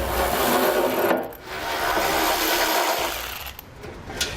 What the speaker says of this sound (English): I'm going to be using a 10mm socket to remove those bolts.